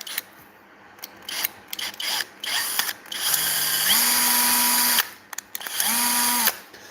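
A power drill runs in short whirring bursts and two longer sustained spins with rising pitch, close up on a workbench where small custom desktop engine models are being built, with clicks and handling noises between runs and no voices.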